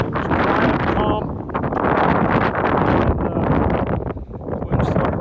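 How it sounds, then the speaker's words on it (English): Wind blows outdoors on a mountain as a storm moves in, roaring steadily in loud gusts that buffet the microphone for the whole stretch, with faint traces of voice beneath. "and the wind started one more time."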